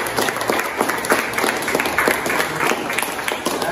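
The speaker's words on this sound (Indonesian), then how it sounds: "kita beri tepuk tangan dulu untuk yang mau" A small group of students in a classroom applauds, with individual claps audible in a quick, uneven rhythm throughout.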